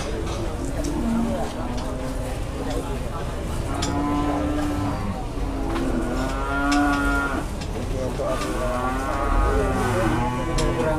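Cattle lowing repeatedly at a busy livestock market where cows are being haggled over, long drawn moos rising and falling across the clip amid steady crowd chatter and people talking nearby.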